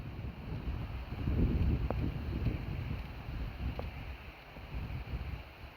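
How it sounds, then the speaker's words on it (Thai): Strong wind blows outdoors, buffeting the microphone in loud, uneven gusts with a couple of faint brief tones and no speech. "ลมแรงนะคะ"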